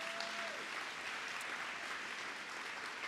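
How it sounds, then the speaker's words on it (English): Sustained audience applause fills a room after volunteers who served breakfast and lunch at a children's advocacy day event are thanked, with steady clapping throughout and a brief voice heard at the start. "let's give one round of applause for them"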